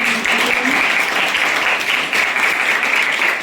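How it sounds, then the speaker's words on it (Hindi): Audience at a government college ceremony closing a one-month sewing training programme applauds loudly and steadily, dense clapping filling the whole stretch without pause. "तो जोरदार तालियां।"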